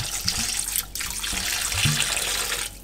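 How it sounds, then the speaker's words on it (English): Water pours from a tap into a pot holding beef fat for rendering tallow, a steady rushing stream with a couple of clunks and a brief interruption midway. "You add some water,"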